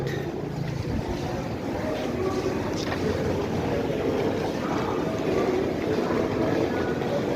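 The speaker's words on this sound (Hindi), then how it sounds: "बहुत बड़ा रेलवे स्टेशन है।" Crowded railway station in Bilaspur heard from an overbridge: a dense, continuous wash of crowd murmur and rumbling station noise, steady and fairly loud throughout, with no single voice standing out.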